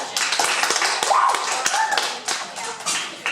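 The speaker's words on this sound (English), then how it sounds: "Let's give them a round of applause" An audience claps to welcome a visiting high school choir at a middle school, a sparse, uneven patter of individual hand claps at moderate volume with no talk.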